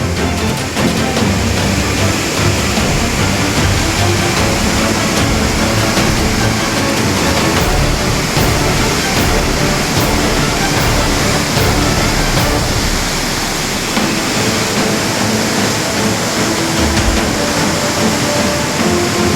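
Floodwater surges past the Madhopur bridge in a loud, unbroken roar that fills the whole stretch with dense rushing noise and no voices.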